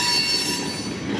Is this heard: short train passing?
yes